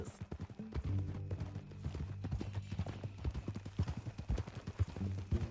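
Horse hooves clip-clop at a steady walking rhythm in the Red Dead Redemption 2 video game, several animals close by with faint low background music throughout.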